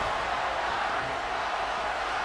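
Dense, steady crowd roar from a wrestling arena in the WWE 2K23 video game, a broad, constant wash of cheering filling the whole stretch with no clear voice over it.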